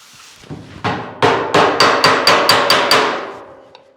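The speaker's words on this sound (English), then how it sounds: "I want to stretch the material as if we're English wheeling it, but using a hammer and dolly and bring that up." Hammer blows on a dolly planishing a welded steel panel, a loud close series of about nine sharp metallic strikes in quick, fairly even rhythm, ending with a faint tap.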